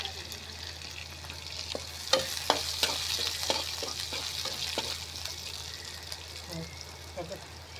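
Green chilies and garlic frying in a pan on a wood-fired clay stove, stirred with repeated scraping clicks over a steady sizzle, with voices faintly present in the background.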